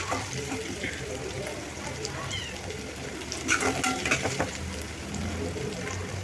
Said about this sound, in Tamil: இன்றைக்கி நம்ம ப்ரான் ஃப்ரையை வந்து லவ்வோட சமைக்கிறோம்